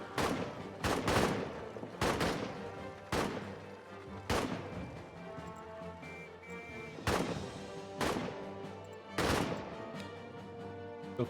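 Shots ring out in the trench warfare game All Quiet in the Trenches, loud broadband cracks at irregular intervals, roughly every second or so, each trailing off into a rumbling battlefield backdrop with no talk.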